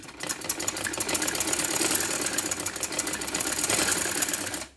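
An electric sewing machine stitches a simple kurti in a rapid, continuous whir that runs steadily for several seconds and then stops abruptly. The sound is fairly close, with no talking.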